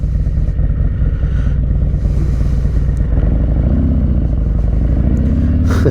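A 2022 Harley-Davidson Street Glide Special with a 131 Screamin' Eagle engine rumbles loudly and steadily with a deep, even throb and slight clatter throughout, no talking.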